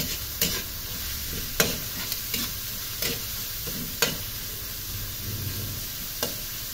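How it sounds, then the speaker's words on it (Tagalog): Ginger, garlic and onion sautéing in pork fat in a pan, a steady bright sizzle broken by occasional clanks and scrapes of a spatula stirring, close and alone. "Gisa lang natin ng maigi."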